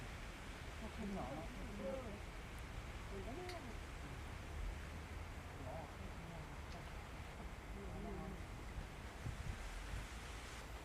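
Wind blows outdoors as a constant low rushing and buffeting against the microphone, quiet and steady for about eleven seconds, with faint voices talking underneath.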